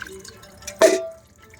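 A single clear drip of water while puja utensils are being washed at home, one short splash standing out against a quiet background with faint household noise.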